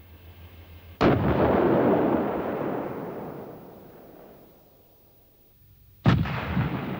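A Bofors low-pressure 90mm tank gun on an IKV-91 fires two heavy booms about five seconds apart, each followed by a long rumbling roll that slowly fades, heard from a distance.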